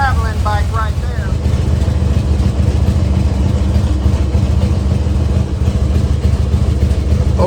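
A motorcycle engine runs close by on a dusty day in Pensacola, a loud steady low rumble filling the whole clip, with a short chirping sound near the start.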